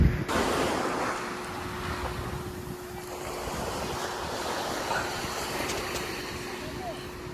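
Sea waves wash continuously onto a shore in Morong, Bataan, with strong wind buffeting the microphone, and a voice can be heard over the roar.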